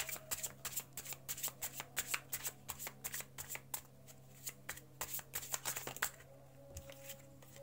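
Tarot cards being shuffled and spread by hand, a quick run of crisp riffling flicks and soft slaps, close and fairly quiet, slowing to a few scattered taps at the end.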